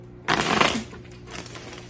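A single brief burst of tarot cards riffling together, close and crisp, fading quickly into a faint background hum.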